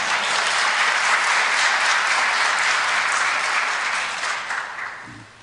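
Sustained audience applause at a speech on foreign relations, dense and steady for several seconds before slowly fading out.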